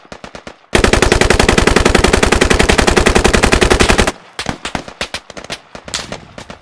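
Sustained automatic gunfire in the military shooter game Squad: a loud, rapid burst of machine gun rounds lasting several seconds, framed by scattered single shots and sharper cracks before and after.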